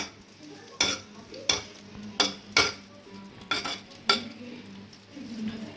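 Almonds, cashews and raisins fry in ghee and oil with a low sizzle. A utensil stirs and scrapes the pan at a regular pace, making about eight sharp strokes up close.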